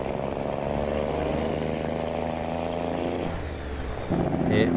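A semi truck's engine in the game Farming Simulator 19 drones at a steady idle, then changes pitch and picks up near the end, with brief talk over it.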